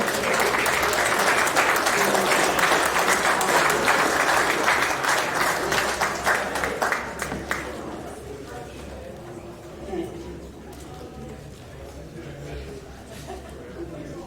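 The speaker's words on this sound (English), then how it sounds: "Round of applause for Mark as well." Loud, full crowd applause for boxing associate inductee Mark Ericksen at a hall of fame ceremony, steady for several seconds then fading into scattered claps and room murmur with some talk.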